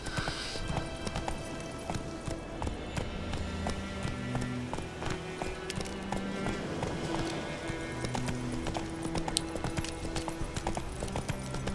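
A horse in The Witcher 3 canters along with steady rhythmic hoofbeats over soft ambient game music, the clip-clop continuing evenly throughout at moderate volume.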